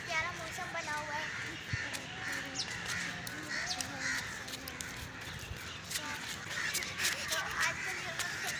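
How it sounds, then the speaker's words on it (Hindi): Crows cawing repeatedly among other bird calls in Mayo Garden park, a steady chorus of harsh caws mid-distance, with faint voices murmuring underneath. "आपको इधर ना परिंदों की आवाज़ें बहुत आती हैं"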